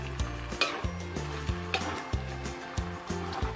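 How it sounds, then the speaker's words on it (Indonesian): Snail krengsengan being stirred in a frying pan, with a steady sizzle and repeated scraping, clanking strokes of the utensil against the pan at an irregular, fairly quick pace, close and moderately loud. "Oke, kita aduk-aduk dulu sampai bawah ya."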